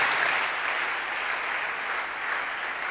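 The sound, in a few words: congregation applauding in church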